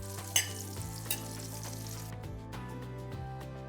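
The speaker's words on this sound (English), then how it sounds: "I can hear that sizzle, sounds good." Meatballs browning in a hot buttered pan give a steady, close sizzle and crackle throughout, with a couple of louder clatters of handling near the start.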